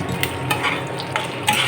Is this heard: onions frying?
yes